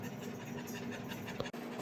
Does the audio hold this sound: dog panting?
yes